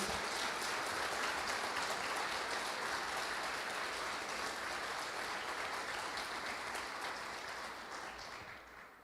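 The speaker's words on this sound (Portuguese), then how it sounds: "Uma salva de palmas, porque é honra ao nosso Deus." A crowd claps steadily and enthusiastically for several seconds, the dense applause holding strong before tapering slightly at the end.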